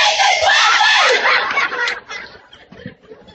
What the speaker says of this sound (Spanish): Las chicas gritan.